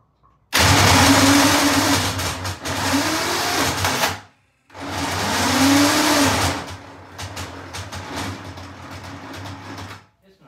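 A vintage British motorcycle engine is cranked in two long, loud, churning bursts of several seconds each, separated by a brief silence. The engine does not catch, and a lower mechanical rumble trails off after the second attempt.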